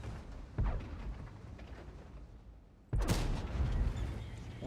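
Two heavy tank cannon shots in the World of Tanks video game, each a sudden loud boom followed by a rumbling decay, the second blast sharper and louder than the first.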